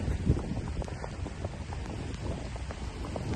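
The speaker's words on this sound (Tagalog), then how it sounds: "Paglakad natin nakaan tayo sa hangin, nakatalikod kasi masyado malakas." Strong wind gusts through a snowstorm in Toronto, a steady, dense roar across the whole stretch with slight surges, near and fairly loud, with no talk.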